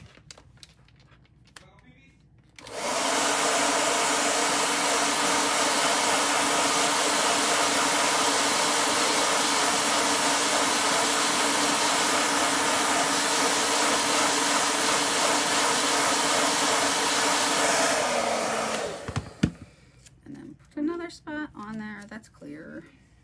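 A hair dryer blows steadily for about seventeen seconds, drying chalk paste on a craft project. The constant, loud rushing hum starts and stops abruptly, with brief talk and handling sounds before and after.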